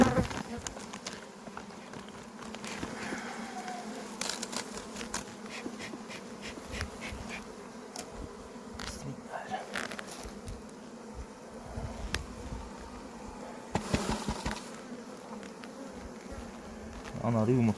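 Dense buzzing of many honeybees swarming close by at an apiary hive check, steady throughout with occasional louder passes and faint clicks, no one speaking.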